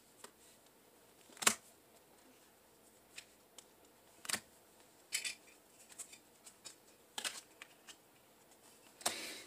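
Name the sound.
tarot cards being pulled and handled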